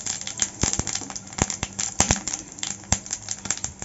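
A dry chili, a bay leaf and cumin seeds crackle and spit in hot oil, giving a busy patter of sharp pops and small crisp bursts, close and moderately loud, with no talking.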